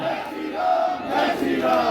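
A large political rally crowd chanting 'Jai Shri Ram' in unison, loud voices swelling and falling in two surging waves.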